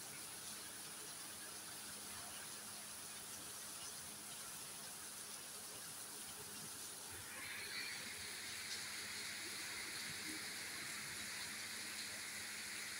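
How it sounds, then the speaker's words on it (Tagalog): Heavy rain and wind in San Jose del Monte, Bulacan, make a dense, steady hiss of downpour. It stays constant throughout and is heard at a distance, with a faint higher tone entering midway. "malakas ang ulan"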